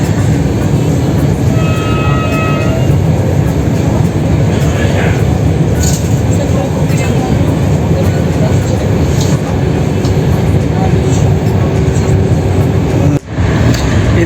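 Inside a Romanian passenger train running between Fetesti and Bucharest, a steady, loud rumble and rolling clatter fill the carriage, with faint squeals overhead and a sharp jolt near the end.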